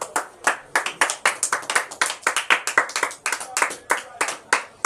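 A church congregation claps together in a fast, steady rhythm during a worship service acclaiming the king, the claps loud and close, with possible faint voices mixed underneath.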